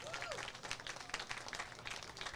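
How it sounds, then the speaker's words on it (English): Crowd applause at a baseball state championship, a dense patter of many hands clapping at moderate distance, fairly faint and steady throughout. "Let's give them a big round of applause."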